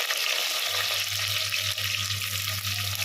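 Onions sauté in a pan for a sardine curry, giving a loud, continuous, close sizzle with no pauses over a steady low hum.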